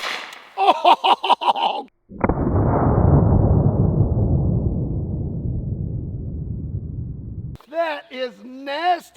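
A 4-gauge shotgun fires an M&M candy shell outdoors, one loud close blast with a long decaying roar, set between bursts of speech before and after.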